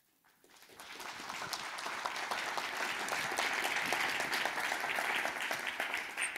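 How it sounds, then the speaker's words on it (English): Applause from an audience in the room after a talk, swelling from silence into a dense, sustained round of clapping that holds steady, fairly faint and distant. "I hope you can hear the applause in the room."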